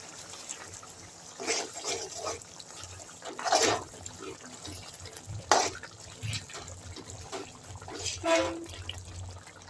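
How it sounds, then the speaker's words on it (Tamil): Thick manathakkali curry bubbles and pops irregularly in a pot, with soft gurgling bursts over a low steady background hum. "அப்படியே முட்டை முட்டை முட்டையாக கொதிக்குது பாருங்களேன்"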